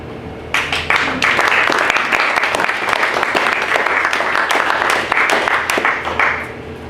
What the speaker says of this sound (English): I don't know whether they're clapping because you sat down or clapping because you